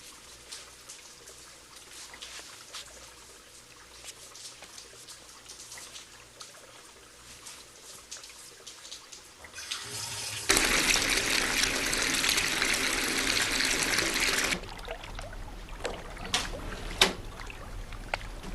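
Shower water bursts on and gushes in a steady loud hiss for several seconds before stopping, after quieter room noise and small knocks.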